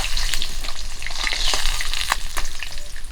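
Rohu fish frying in hot oil, a loud continuous crackling sizzle with bursts of sharp spattering pops, close up and without speech.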